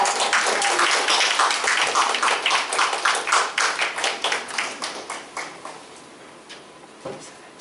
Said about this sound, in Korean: 큰 박수로 맞이해주시겠습니다